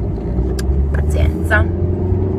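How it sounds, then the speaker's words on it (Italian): A steady low engine rumble fills the cabin of a car being driven to work, constant throughout, while someone speaks briefly over it. "adesso ho preso la mia macchina per andare al lavoro"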